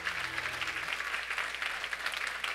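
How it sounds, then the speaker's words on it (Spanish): A church congregation applauds, with dense, even clapping over a faint low hum that continues throughout. "Un aplauso al Señor."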